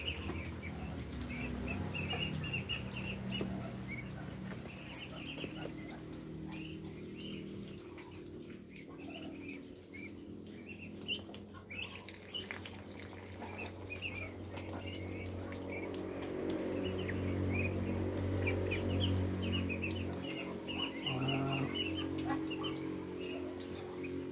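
Muscovy ducklings feed and drink on a farm, with continuous soft peeping and chirping, pecking taps and light scuffling under a steady low background hum.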